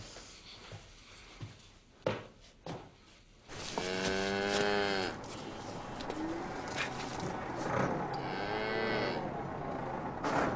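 On a farm, a cow gives one long, loud, close moo, and a second fainter moo follows. Quieter knocks and bird coos come before them.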